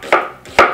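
Two crisp knife strokes through onions on a cutting board, slicing them into thin strips, each a short close chop with a brief scrape.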